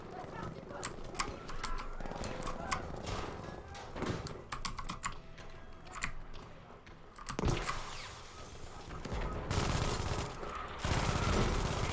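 Artillery and gunfire in a World War II style shooter game: dense, rapid sharp bursts and crackling volleys, loud and close, with heavy booms near the end, layered with a player talking throughout.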